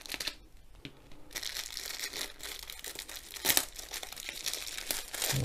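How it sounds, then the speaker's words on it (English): Scissors cutting open the plastic bag of a diamond painting kit, close crinkling and rustling plastic with a sharp snip partway through, no talk. "So I'll just cut the bag."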